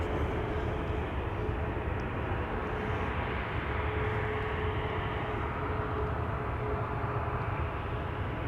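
A KLM Boeing 737-800 jet taking off at Amsterdam Schiphol Airport, heard as a loud, steady engine roar with a broad rumble and a faint whine running through it from start to finish.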